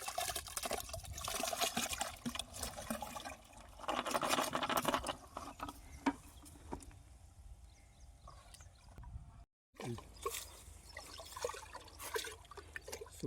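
Hands mixing soil with water in buckets, producing wet squelching, patter and trickling sounds in uneven bursts, close but quiet, with a brief silent gap near the end before the sloshing resumes.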